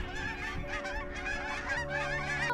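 A dense chorus of geese honking, many overlapping calls at once, steady and fairly close, from a flock drawn in by hunters' wooden goose calls.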